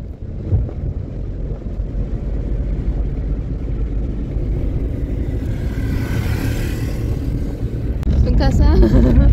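Car engine running steadily as the vehicle pulls away, a low continuous rumble with wind noise, growing slightly louder near the end where voices briefly come in.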